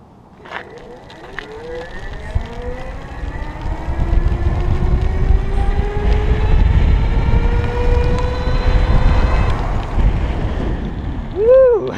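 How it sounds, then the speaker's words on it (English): An electric folding bike with a 350 watt geared motor pulling away from rest on its trigger throttle: a rising motor whine that climbs in pitch over several seconds under heavy wind rush, then tapers off near the end. "we're gonna go from rest here and use the trigger throttle. So I'm just gonna press that and take off."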